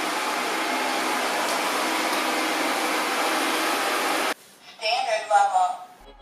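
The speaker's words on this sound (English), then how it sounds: "I want to check the noise level of the robot vacuum cleaner. As you can see, the noise level in a quiet mode is 47 decibels." An AIRROBO P10 robot vacuum cleaner runs in quiet mode, giving a steady, even broadband whir for about four seconds that then cuts off abruptly and is followed by a voice speaking.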